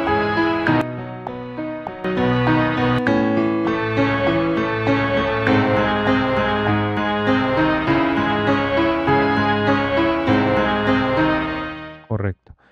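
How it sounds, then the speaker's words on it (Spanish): Sustained virtual pipe organ chords ring out loud and full, with layered low and high tones moving slowly, then cut off abruptly near the end. "está cargado con un órgano de tubo, pipe organ"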